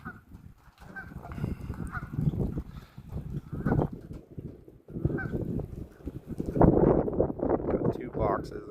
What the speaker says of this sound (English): There's a goose in that box.